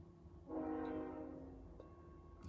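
A train horn sounds once from a distance, a rich chord that swells in, holds about a second and fades into quiet ambience.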